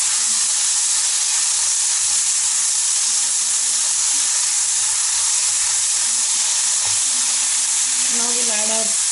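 Pasta sautéing in a hot pan gives a loud, continuous sizzle and hiss throughout, with a faint voice briefly audible near the end.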